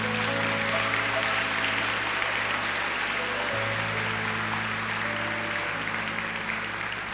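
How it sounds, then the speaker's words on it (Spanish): A church congregation applauds steadily after a prayer, dense continuous clapping filling the room with sustained organ or keyboard tones held underneath. "Un aplauso para las personas que hicieron la oración"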